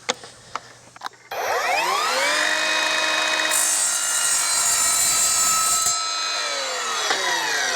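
An Evolution R255SMS-DB-Li cordless multi-material miter saw cuts 1/8 inch steel flat bar: a few clamp clicks, then the motor spins up into a loud, sustained whining grind with a rising shriek as the blade bites, before winding down.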